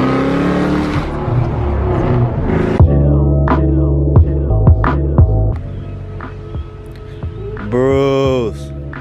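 A pulleyed Ford Cobra engine revs hard and loud, droning with a throbbing harmonic roar that surges and holds, then drops off before a final sharp climb.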